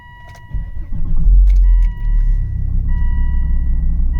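A Volvo V70 engine cranks and fires into life, then settles into a loud, rough, uneven idle with a steady low rumble close by.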